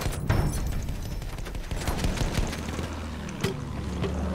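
Battlefield 1 gunfire crackles through a busy, noisy battlefield, with several sharp shots standing out near 0.3 and 3.4 seconds over a constant rumble of engines and wind.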